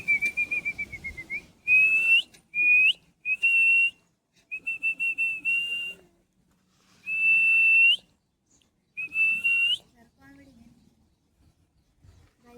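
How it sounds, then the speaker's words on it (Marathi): Someone whistles in a series of clear, sustained tonal phrases with short pauses between them, calling tall ostrich-like birds during an outdoor picnic. The whistling is close and carries over a quiet background. "ओलो शिट्टी वाजवलं ते येतंय राव"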